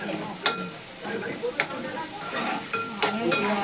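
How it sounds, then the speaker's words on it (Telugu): Onions and dried fish fry in a pan, a constant soft sizzle broken by several sharp clinks and scrapes as a utensil stirs them, close up with no talking. "ఉల్లిపాయలు, ఎండి నెత్తళ్ళు బాగా వేగాలండి."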